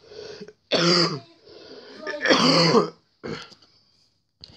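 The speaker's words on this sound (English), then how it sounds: "Hey, that's my cough." A video game character in Star Warfare coughs and clears its throat in a few rough, loud bursts, each separated by brief pauses, with no talking over them.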